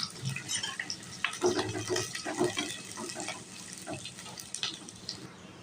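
Onions sizzling in hot oil in a home kitchen, a soft continuous crackle and hiss with scattered pops, fairly quiet and close.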